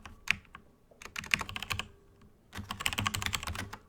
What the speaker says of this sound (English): This is a mechanical keyboard, so if this is getting on your nerves, guys, I'm sorry for that.